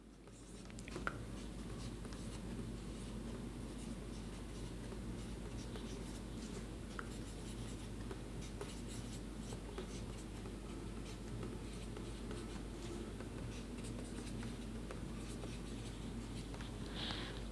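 Pen writing an example sentence on paper, a continuous soft scratching of strokes, close and quiet over a low steady hum, with no talking.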